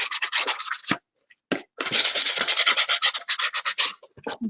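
A journal surface is roughed up with quick, rhythmic scrubbing strokes, close and crisp, in two bursts separated by a short pause.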